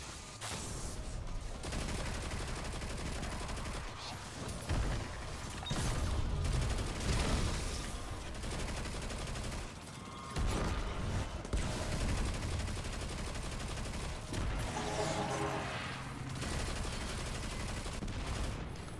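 Sustained bursts of submachine gun fire in Destiny 2, long rapid strings of shots broken by short pauses, loud and dense with mechanical clatter throughout.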